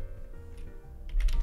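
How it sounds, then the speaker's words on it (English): Typing on a computer keyboard, a few soft scattered key clicks close by, ending in a slightly louder burst of taps. "Let me try just typing Baghdad for the hell of it"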